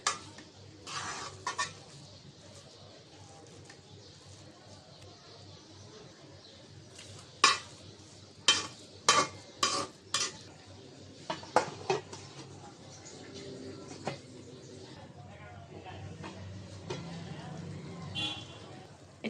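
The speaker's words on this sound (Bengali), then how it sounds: "নাড়াচাড়া দিতে আছি চালটা আর একটু সিদ্ধ হবে নাড়াচাড়া দিয়ে ঢেকে রাখবো ভালো করে" Rice for beef biryani is stirred in a pot, with quiet scraping and a run of sharp clinks and knocks from the utensil in the middle, set against low background murmur.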